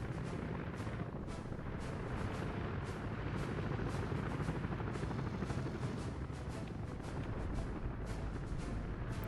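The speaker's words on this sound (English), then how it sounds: "Helicopter, dude." A loud helicopter drone in the video game Workers & Resources, with a steady rotor rumble, continuous and close, mixed with booming game-style battle noise throughout.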